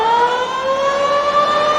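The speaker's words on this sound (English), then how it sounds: "a siren in the background, half-time" A half-time siren sounds at a 1994 Coca-Cola World Sevens rugby league match between Manly and Cronulla, a loud, steady, sustained wailing tone held without a break.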